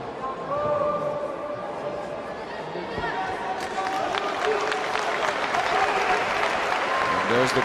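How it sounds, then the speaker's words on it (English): A crowd at a 64 kg light welterweight boxing final applauds and cheers for Team Turkey, producing steady, dense clapping and roaring that swells slightly louder toward the end. "And there's the crowd supporting the home team here, Team Turkey."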